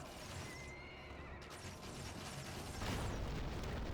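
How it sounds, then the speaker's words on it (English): Horses neigh and whinny in a fantasy strategy video game, with a clip-clop of hooves over a dense, steady wash of battle noise that swells louder near the end. "Another set of horses getting spawned"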